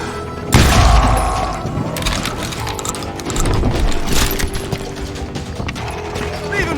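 Shotgun blasts and gunfire ring out in the Western shooter Call of Juarez: Gunslinger. A loud boom opens, followed by dense mechanical clatter and repeated shots over a continuous noisy battle bed.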